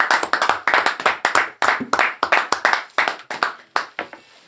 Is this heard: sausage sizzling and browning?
no